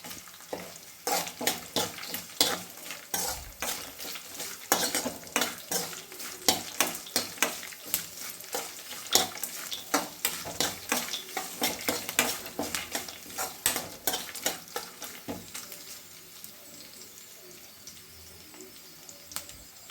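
Spices sizzle in a hot pan for sweetcorn uppittu while a spoon stirs, scraping and clinking against the metal in quick irregular bursts that ease off toward the end.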